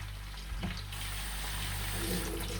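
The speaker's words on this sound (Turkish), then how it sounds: "Şu bulgurumu da yıkayın." Tap water runs steadily over bulgur being rinsed in a kitchen sink, a continuous close hiss without speech.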